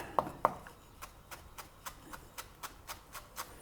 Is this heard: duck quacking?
no